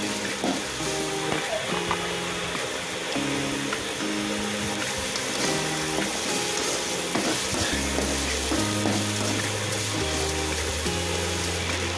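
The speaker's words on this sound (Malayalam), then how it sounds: "നന്നായിട്ട് ഇളക്കി കൊടുക്കുക ഒരു ഇളം ബ്രൗൺ കളറാവുന്നത് വരെ നന്നായിട്ട് വഴറ്റുക" Vegetables for cutlets are sautéed and stirred in a pan, a loud, steady broadband sizzle with scraping stirs, partly masked by melodic background music throughout.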